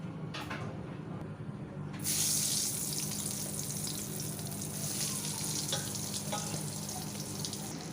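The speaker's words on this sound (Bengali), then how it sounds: "তো দেখো বেগুন ভাজা হয়ে গেল" Eggplant slices fry in a pan with a continuous, close hiss of sizzling oil that grows brighter and louder partway through, a few faint clinks breaking the steady crackle.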